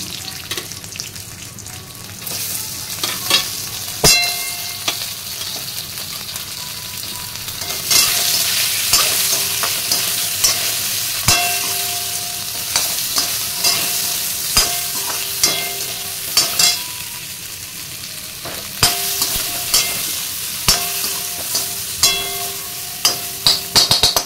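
Potatoes and cumin frying in hot oil in a pan, stirred often, giving a steady close sizzle with repeated scraping and clinking strokes of a spoon against the pan throughout.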